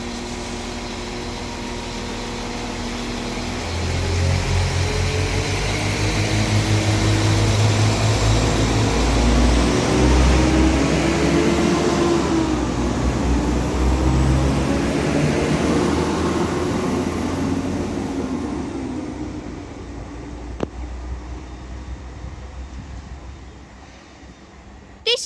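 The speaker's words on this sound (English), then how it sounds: "I shall see you all when this Northern Class 195 departs." A Northern Class 195 diesel multiple unit pulls out of Rochdale station, its engine and wheel noise swelling into a loud, sustained roar, then gradually fading as it moves away, with a sharp click near the end.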